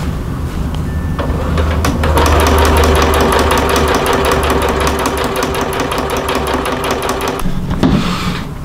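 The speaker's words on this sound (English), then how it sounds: "let's continue on and get this all hemmed all the way around" A sewing machine hems the edges of a coyote brown ripstop nylon hammock in a long continuous run, its motor humming loud and close, ending in a brief stop near the end.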